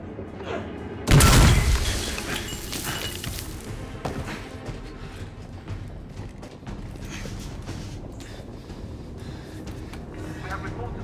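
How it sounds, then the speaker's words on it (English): In The Order 1886 video game, a sudden loud blast and crash bursts out, followed by ongoing rattling gunfire, clanks and debris-like noise mixed with voices talking. "We have reports of gunfire in the foyer."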